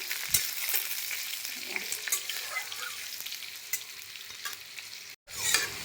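Panch phoron, curry leaves and dry red chilies crackle and sizzle in hot mustard oil, a steady dense frying hiss with a few stirring scrapes, cut briefly near the end before resuming.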